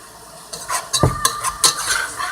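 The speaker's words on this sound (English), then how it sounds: "I had to stir up the veggies" Vegetables stirred in a cooking pan for a vegetarian meal: several close scraping, clinking strokes of a utensil against the pan, with light sizzling underneath and no voices.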